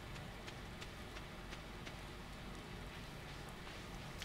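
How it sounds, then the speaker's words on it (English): Steady rain falling in the Stardew Valley video game, a continuous soft hiss with faint scattered drop ticks, even and moderately quiet throughout with no talking. "It's a rainy day."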